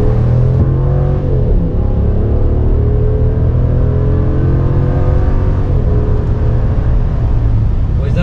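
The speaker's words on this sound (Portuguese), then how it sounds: "vamos dar uma aceleradinha então agora pra galera ver" Steady, loud idle from a Ram 1500 pickup's gasoline V8 Hemi, with one brief rev early on, then a constant deep drone up close.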